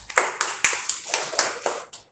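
Students in a classroom clap for a classmate, about eight distinct, evenly spaced hand claps that stand out clearly with no talk over them.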